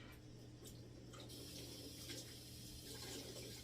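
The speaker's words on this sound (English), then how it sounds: "let me get my hands really cold with the water" Tap water runs steadily over hands as they are chilled in a home kitchen while plant-based meat is made, giving a soft, continuous, fairly quiet rush with no talking.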